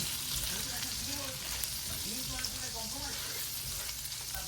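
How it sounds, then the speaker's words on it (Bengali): Prawns frying in butter in a pan, a loud, constant sizzle close by, with a voice talking faintly underneath. "কয়েকটা চিংড়ি মাছ এই যে বাটার মধ্যে ভেজে নিচ্ছি।"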